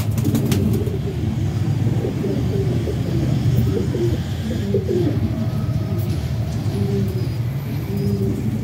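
Red-eyed pigeons coo in repeated low, throaty phrases close by, set against a steady hum of background traffic.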